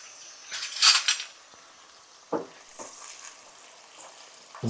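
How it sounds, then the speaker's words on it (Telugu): Pieces of country chicken fry in a pan, giving a brief loud sizzle burst, then quieter crackling with a few scraping stirs of a utensil against the pan; no voices. "మంచి కలర్ వచ్చేంత వరకు వీటిని బాగా వేపుడు చేసుకోండి, వేయించుకోండి."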